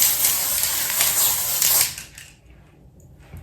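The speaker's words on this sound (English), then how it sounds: "You just spray it on your hair." Glitter hair spray hisses from an aerosol can in one steady blast for almost two seconds, close and loud, then stops, leaving quiet room tone.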